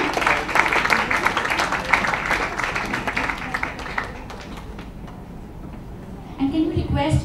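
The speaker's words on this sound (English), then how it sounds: "please, a huge applause for our wonderful author and for our honorable guests" Audience at a book launch for author Zuni Chopra's The House That Spoke applauds the author and guests; dense, lively clapping fills the first half, then thins as a voice talks over it and music begins.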